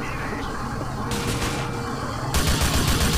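Heavy M460 gunfire from GTA IV: The Ballad of Gay Tony, a dense, loud, continuous burst that grows harsher and stronger toward the end, with no voices over it.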